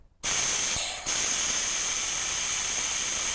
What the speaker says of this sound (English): we're going to suction out the brake fluid that's in the master cylinder